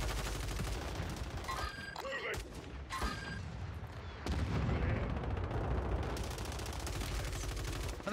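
Enemy gunfire in Warzone 3 on Rebirth Island, a sustained rattle of automatic shots with louder bursts and thuds, fairly close and continuous, with some talk mixed in.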